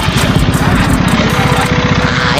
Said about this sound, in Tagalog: Maingay yung sigunyal yata ito.